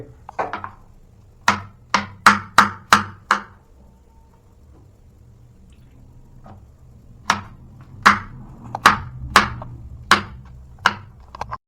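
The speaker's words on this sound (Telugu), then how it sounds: "మొత్తం బెండకాయలన్నీ కట్ చేసుకుని ఒక పక్కన పెట్టేయాలా" A knife chopping okra on a cutting board in a home kitchen, with a quick run of about six crisp, close taps, then a pause and a second uneven burst of similar chops, no talking.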